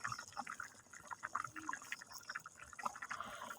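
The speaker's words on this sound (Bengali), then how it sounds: "আমার কিন্তু তরকারি ফুটে এসছে" A pot of egg and potato curry bubbles at a boil, producing soft, uneven wet popping and burbling up close, quiet and steady throughout, with no speech.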